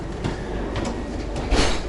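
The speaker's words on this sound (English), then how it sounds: "So I think this is the right train." A train near Oslo, Norway, rumbles close by with rolling wheel noise and a short swell of rail clatter toward the end, heard alone without talk.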